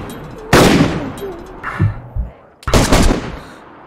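Gunfire in the video game DayZ during a zombie fight, two loud, sustained bursts of rapid shots separated by a gap holding a few softer thuds and clicks.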